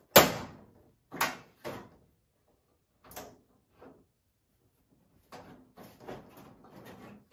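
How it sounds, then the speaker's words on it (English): The door of a Ruff Land or Impact dog crate is handled and shut, giving several sharp plastic and metal clacks and rattles in separate bursts with quiet gaps between them. "Make sure this door is shut."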